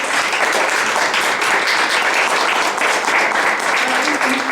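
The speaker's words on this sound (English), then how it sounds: "We can give a round of applause to them." Steady applause from a panel audience at a gender-based violence event fills the room, dense and even throughout with no pauses, fairly loud and close.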